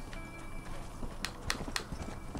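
Horse hooves clip-clopping in the Western video game Red Dead Redemption, three sharp hoof strikes in a steady row standing out over a busy, low game background.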